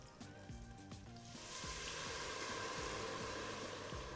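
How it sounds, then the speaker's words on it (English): Chicken stock pours into a pan of hot flavored oil and bursts into a loud, steady sizzle that swells after a quieter start and holds to the end, with light clinks of the pan under it. "So I'm gonna pour the chicken stock into that flavored oil."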